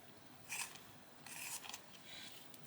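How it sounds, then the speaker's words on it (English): A colouring pencil being sharpened by hand, faint scraping bursts in a few short strokes close by in an otherwise quiet room. "I'm going to sharpen this,"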